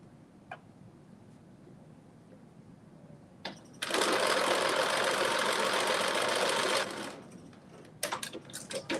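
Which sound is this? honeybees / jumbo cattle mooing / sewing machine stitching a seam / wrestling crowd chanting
sewing machine stitching a seam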